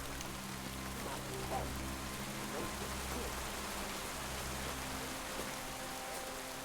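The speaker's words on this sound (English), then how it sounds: "Luckily, we have the rain to block us." Rain falls in the video game Kingdom Come: Deliverance 2 as a soft, steady hiss that runs quietly throughout with no clear breaks.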